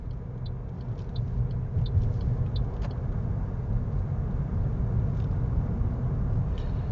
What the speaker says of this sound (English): and then I can move the car.